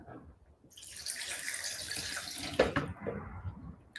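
Liquid pours into a blender while tomato soup is being prepared, a steady close splash building for a few seconds and then trailing off in a quiet room.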